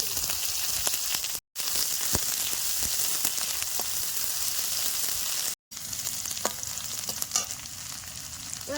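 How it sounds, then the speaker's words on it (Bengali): Steady, close sizzling of onions frying in hot oil, with faint stirring scrapes and no talking. "পেঁয়াজটা বেশ সুন্দর লাল লাল করে ভাজা হয়ে গেছে"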